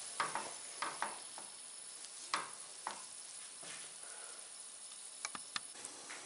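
Flour roasting in hot oil for tahini halva, stirred with soft scraping strokes and faint sizzling, quiet and close, with irregular clicks of the spoon against the pan.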